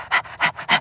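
A person imitates a dog panting with three quick, breathy huffs evenly spaced and close up, loud and distinct with short pauses between.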